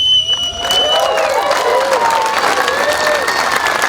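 An audience at a family pavilion ribbon cutting bursts into dense, loud applause with a few cheers and whistles rising through it, close and sustained throughout.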